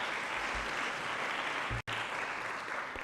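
A lecture audience at Wayne State University applauds steadily, a dense, even roar of clapping with one momentary dropout partway through.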